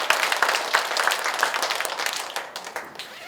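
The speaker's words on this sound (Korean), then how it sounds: "우리 박수 한번 쳐주지요" A short burst of applause from a small church congregation during a Sunday service, with quick, dense hand claps that thin out toward the end.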